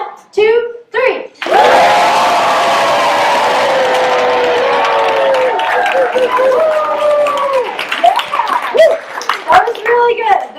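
Talent show audience clapping and cheering loudly for the stage on cue, a sustained burst of applause and shouts following a few short spoken counts, then fading into scattered voices and claps.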